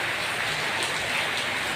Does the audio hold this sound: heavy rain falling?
yes